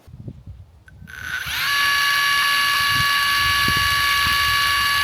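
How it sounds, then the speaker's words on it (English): Pump motor of a homemade high-powered water pistol, driven by a 115-volt electric system of about 6.9 kilowatts, spins up within a second and then runs at a steady, loud, high whine without a break. "Oh, it's pumping like really well."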